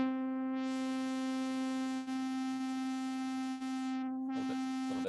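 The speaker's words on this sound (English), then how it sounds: "A little bit of distortion." A synthesizer holds a steady, sustained tone with filter drive adding distortion, a bright buzzy timbre that stays even and moderately quiet, briefly thinning near the end, with no voice.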